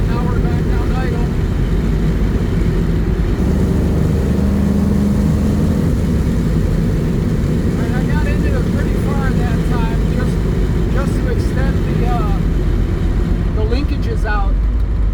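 A car engine fitted with a Holley Sniper fuel injection, fixed for a sticking throttle, drops from about 3,500 RPM back to a loud, steady idle close by. A person talks over the running engine part of the time.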